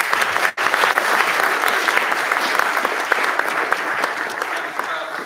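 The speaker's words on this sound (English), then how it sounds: "So Ehab, a round of applause for Ehab" An audience at the Doug Wright Awards gives Ehab a round of applause: dense, continuous clapping after a brief dropout, with voices faintly mixed in.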